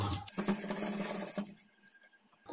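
A sewing machine runs a rough tacking stitch along a plain blouse side seam in a fast, steady whir that stops abruptly partway through, followed by quieter handling noise.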